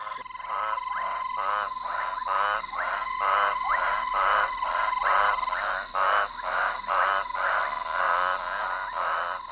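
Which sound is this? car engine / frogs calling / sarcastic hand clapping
frogs calling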